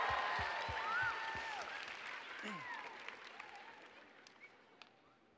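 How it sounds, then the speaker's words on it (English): A conference audience applauds at the close of a session, a moderate round of clapping that fades out gradually, with a voice briefly over it. "Let's give another round of applause for Shea Emry, everybody!"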